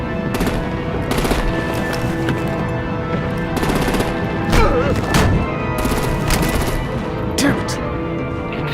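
Rapid machine-gun bursts and gunfire in the Batman: The Enemy Within video game, loud and sustained with heavier booms mixed in and game dialogue over the shooting.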